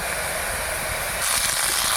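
Flat beans hitting hot oil in a pan for a spicy Bengali bean dish, a steady loud sizzling hiss that grows brighter and stronger partway through, with no talking.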